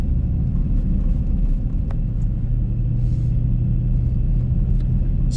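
A Dodge Charger Scatpack drives in sports mode on a zero-degree day, heard from inside as a steady, low engine and road rumble that holds constant throughout, with a few faint ticks over it.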